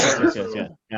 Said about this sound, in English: your coughs look ominously like sneezes